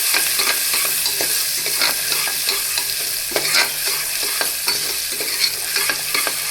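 A pan of sabudana khichdi with onion being stirred, with a steady frying sizzle and repeated soft scraping strokes throughout, close and fairly loud with no voices.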